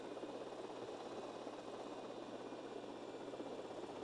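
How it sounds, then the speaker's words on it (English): A helicopter flying in GTA Vice City Definitive Edition, a steady, dense rotor and engine drone holding at constant loudness throughout with no talk. "I thought the helicopter was gonna be a lot harder to maneuver, but it's not that bad."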